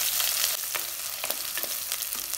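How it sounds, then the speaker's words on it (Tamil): Finely chopped onions with a few curry leaves sizzle steadily in a pan while cooking for a South Indian sambar, a soft hiss with light stirring scrapes, no talking. "நல்லா வெங்காயம் வதங்கட்டும்."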